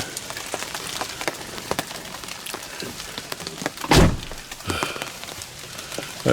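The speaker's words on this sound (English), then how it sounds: "That sound you hear is the sound of rain." Rain patters steadily in the mountains during a deer hunt, scattered drops tapping nearby surfaces in irregular clicks, with one louder thump partway through and no talking.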